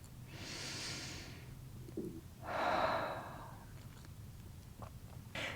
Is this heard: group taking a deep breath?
yes